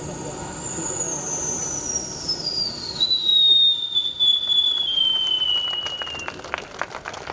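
A voice imitates an airplane approaching from afar and passing overhead: a long falling whistle-like tone gliding downward over several seconds, with crowd noise and laughter from a comedy event underneath.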